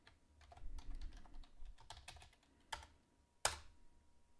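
Typing on a computer keyboard to enter a project name, a quiet run of light, irregular key clicks with a couple of louder strokes near the end.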